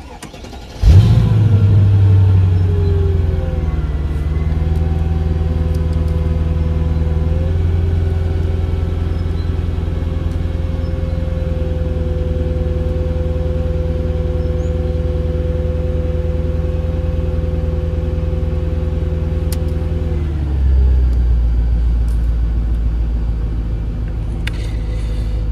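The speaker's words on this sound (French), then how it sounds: "On va démarrer le moteur, on va voir si l'erreur moteur revient ou pas." A Mercedes CL500 W215 engine cranks and fires, flares briefly, then settles into a steady, deep idle close by for around twenty seconds, with a small blip near the end.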